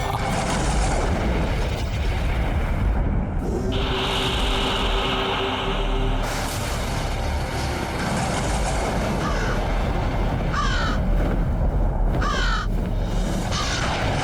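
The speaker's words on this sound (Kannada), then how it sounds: "ಇಷ್ಟು ದೊಡ್ಡದಾದ ಕಾಗೆ ಅರಮನೆಯತ್ತ ಏಕೆ ಹೋಗುತ್ತಿದೆ?" A large crow caws near a palace, its harsh calls loud and repeated over a constant dense roar of background noise.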